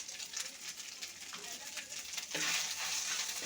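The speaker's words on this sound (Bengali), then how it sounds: "ভালো করে মিশিয়ে একটু ভাজা ভাজা করে নেব" Masala paste with a spoon of ginger paste sizzles in a pan as it is stirred for a rui fish curry with taro and potato, a soft continuous frying hiss that swells louder partway through.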